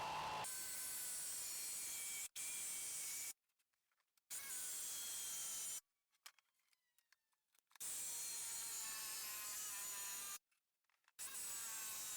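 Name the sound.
jigsaw cutting wood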